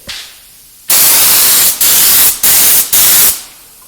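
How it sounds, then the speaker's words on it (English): A small spray gun applying clear lacquer to burnt wood hisses in four loud bursts of broadband spray separated by short pauses, close up, after a quiet moment. "We're just going to give this a clear coat of lacquer with my little spray gun."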